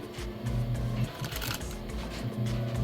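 Sewing machine stitching binding onto the edge of a plush carpet, a steady mechanical whir with a rhythmic hum running continuously and fairly close throughout, no voices.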